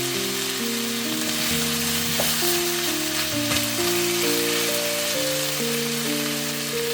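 Grilled tofu goes into a sizzling pork stir-fry, with a steady, close frying hiss running under background music throughout.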